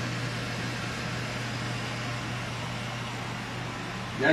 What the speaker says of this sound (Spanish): Ya está hirviendo, miren.